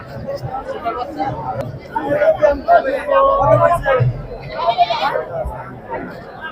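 Goats, mostly mother goats, bleat repeatedly amid busy crowd chatter, their calls rising over nearby voices at a bustling outdoor goat market in Tebaria, Natore, Bangladesh.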